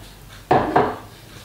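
Sauce being stirred into pulled pork in a pot, two quick close wet scraping strokes of a utensil against the pot, with quiet in between and after.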